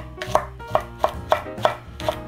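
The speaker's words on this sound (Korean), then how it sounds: "홍고추도 이렇게 썰어서 믹서기에 갈을 거라" A knife slices a red chili pepper steadily on a cutting board, six crisp, evenly spaced strikes in a quiet kitchen.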